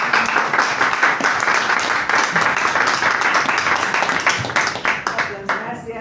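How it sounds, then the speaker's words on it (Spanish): An audience applauds the presenters at a COP30 discussion event, with dense, loud, steady clapping that runs throughout while voices mingle underneath. "Un aplauso por favor a los expositores"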